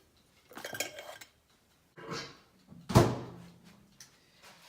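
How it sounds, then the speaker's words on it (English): A few clattering bumps and knocks, then a firm thud of a microwave door shutting, with quiet gaps between. "I'm going to place these in the microwave"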